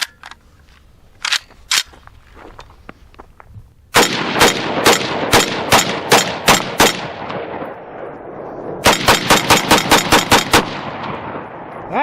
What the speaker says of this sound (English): Pops, I'm gonna shoot the Mini 14.